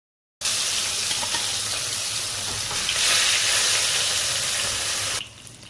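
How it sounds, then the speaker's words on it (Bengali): Pieces of katla fish fry in hot oil in a pan, giving a loud, steady, close sizzle that starts abruptly and holds for about five seconds before easing. "এরপর বাকি সব মাছগুলোকে ভেজে নিই।"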